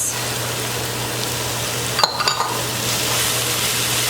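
Green cabbage, celery and carrots going into a soup pot of minestrone, a steady background sizzle broken by a brief cluster of clattering knocks and scrapes against the pot midway.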